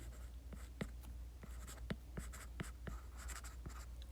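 A pen scratches and taps across paper in quick, uneven strokes, writing a table, close and quiet, with no talking.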